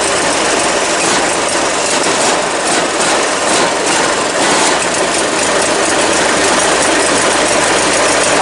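A 2001 Murray garden tractor's 20hp Briggs opposed twin engine runs loud and close, a dense steady mechanical roar with rattling texture that holds without pause throughout.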